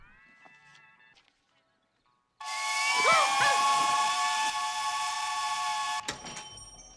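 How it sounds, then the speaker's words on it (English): A loud, sustained steam whistle blasts with a bright, harmonic-rich tone for several seconds, then cuts off abruptly, preceded by quieter tones. "What's the story with this whistle at 5:30 in the morning? It's a steam whistle."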